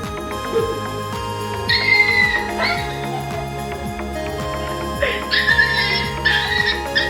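A dog reacts behind a door to a phone slid underneath it, giving whimpers and yips amid background music with tonal chimes.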